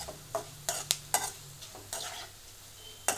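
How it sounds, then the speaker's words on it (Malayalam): A spoon stirs Kerala-style mango pickle frying in a pan, with a soft sizzle under it and several sharp scraping strokes spaced unevenly, close and fairly quiet. "നന്നായി ഇളക്കി കൊടുക്കാം."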